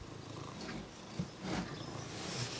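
A contented cat purring close by, a soft steady low rumble with a faint background hiss and no talking.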